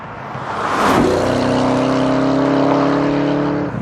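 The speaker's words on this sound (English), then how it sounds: "I love the crazy psycho whine of the Hellcat" A 2015 Dodge Challenger SRT Hellcat's engine builds to a loud, steady, high-pitched whine that holds evenly for several seconds close by, with no voices over it.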